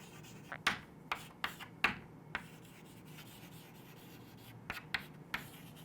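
Chalk or marker taps and scratches on a board during a biology lesson, several short sharp strokes in quick clusters, faint against a quiet room.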